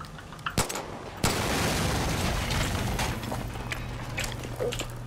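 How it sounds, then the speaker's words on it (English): A small explosion in Far Cry 5, a sharp pop followed moments later by a louder blast that settles into a sustained rumbling roar with scattered crackles. "It's a pretty small explosion."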